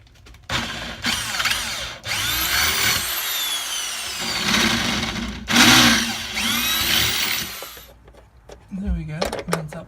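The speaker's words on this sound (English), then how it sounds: "The other one I'm just going to drill with a small 3mm drill bit first," A small power drill with a 3mm bit whines in several bursts, its pitch climbing as it bites into material, with short pauses between and a voice at the end.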